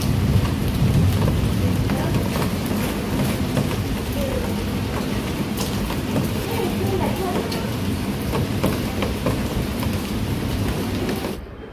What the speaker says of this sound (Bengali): দিন ধরে বৃষ্টি চলছে তো চলছেই।